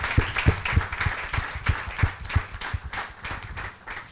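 Applause for conference panelists at the close of an energy technology session, a moderate crowd clapping steadily with a mix of sharp individual claps and a dense wash, sustained throughout.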